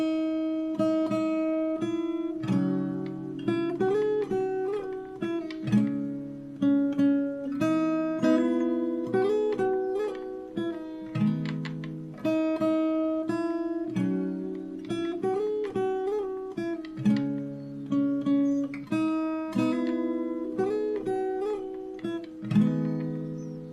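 Fingerstyle acoustic guitar plays a song's pre-chorus, plucked notes and ringing chords with crisp attacks, a repeated phrase played twice over, near and solo with no voice.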